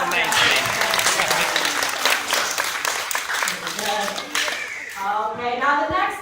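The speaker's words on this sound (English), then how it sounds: "You can give her a big clap." Audience at an outdoor parrot show claps loudly and steadily for a performing bird, the dense applause thinning toward the end as a voice begins speaking over the last claps.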